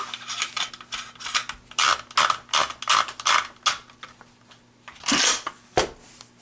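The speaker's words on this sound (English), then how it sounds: "And I'll just put it back together, put the barrel back in. Screw the cap back on." Benelli SuperNova shotgun being reassembled, barrel fitted and cap screwed back on, heard as a close series of quick metallic clicks, scrapes and rattles in irregular bursts, no speech.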